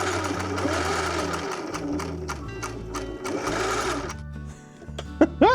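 A domestic sewing machine runs steadily, stitching a French seam with a continuous mechanical whir and needle clatter for about four seconds, then stops before a few brief clicks.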